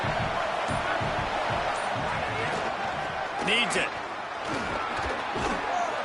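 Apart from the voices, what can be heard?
football stadium crowd cheering on fourth down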